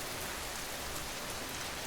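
Steady rain falls outside, a dense, even hiss of drops on surfaces with no gaps and no voices, filling the short stretch from start to end.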